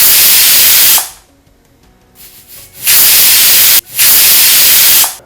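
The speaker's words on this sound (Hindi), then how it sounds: "कुकर में 3 सीटी आ गई है" A pressure cooker whistle cooking urad dal: a loud, steady steam hiss blasts for about a second, drops to quiet, then returns in two long hissing bursts with a brief break between them.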